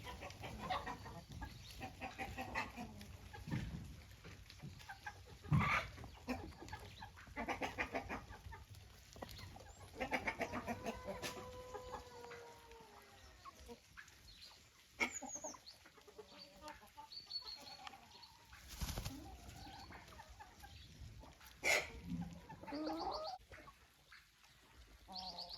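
A small, highly productive laying hen that lays green-blue eggs clucks in scattered bursts at moderate volume, mixed with other fowl and farmyard noise and no voices.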